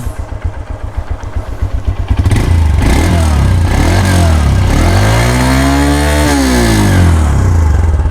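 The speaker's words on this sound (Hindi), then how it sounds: "ये देखें जी हमारी बाइक स्टार्ट हो गई है।" A Honda CB150F motorcycle, ridden about 10,000 kilometres, cranks with a rapid starter chatter, then catches and runs loud and close, its engine revving up and settling in rising and falling sweeps.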